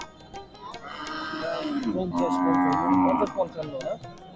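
A cow moos close by, a long drawn-out low call, with faint voices and ticking noises of a busy cattle market in Manikganj, Bangladesh around it.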